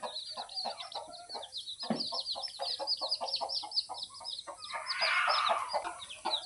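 A native village hen clucks repeatedly beside her brood of newly hatched chicks, whose thin high peeping chirps run almost continuously over the close, steady clucking.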